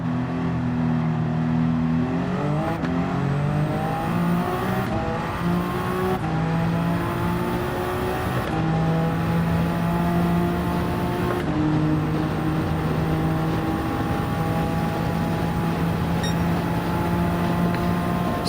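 An LMP1 prototype race car engine in a racing video game howls loud and steady, climbing in pitch through each gear and dropping briefly at several upshifts, with no voices.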